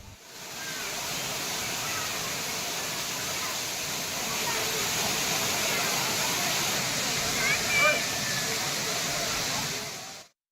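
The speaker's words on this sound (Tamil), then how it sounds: "திருப்பரப்பு அருவியில் நீர்வரத்து அதிகரித்துள்ளது" Thirparappu waterfall running with increased flow after summer rain, a constant broad roar of rushing water that stays steady and loud throughout before cutting off at the end.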